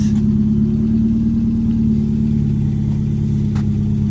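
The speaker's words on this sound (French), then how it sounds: "Le proprio part avec son bolide." A Ford XR3i convertible engine hums loud and close at a steady low pitch, idling and rumbling continuously without clear acceleration.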